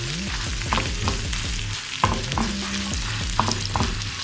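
Dried red chillies and curry leaves fry in a pan while being stirred: a steady, loud sizzling hiss with periodic scraping stirs, a tonal melody running underneath and no speech.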